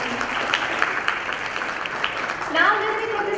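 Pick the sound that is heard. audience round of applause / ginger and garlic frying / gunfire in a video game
audience round of applause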